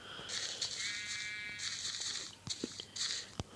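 Several Minecraft sheep in an enclosure bleating in quick nasal bursts, two longer calls followed by a couple of shorter ones, fairly close, with light clicks and taps in between and no speech.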